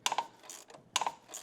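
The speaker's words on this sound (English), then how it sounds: "The couple turns will press this pulley off, and just take your time here." Plastic power steering pump pulley being pressed off with a puller, heard as two close bursts of sharp mechanical clicking and ratcheting, near and fairly loud, with no talk.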